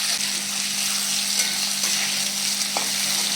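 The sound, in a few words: tomatoes frying in a pan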